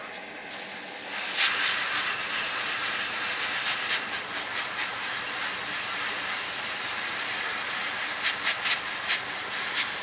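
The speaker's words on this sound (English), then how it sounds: "I've masked off, and I'm airbrushing, and it's looking pretty nice." An airbrush sprays paint onto a plastic model kit from the Yamato mecha collection, a close continuous airy hiss with faint ticking pulses, sustained for about nine seconds.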